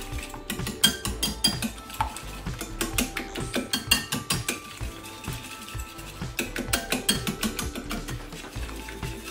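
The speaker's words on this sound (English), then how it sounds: "Keep whisking it." Eggs are whisked for a prawn omelette, a quick steady clatter of a whisk against a bowl heard close up, with no talking.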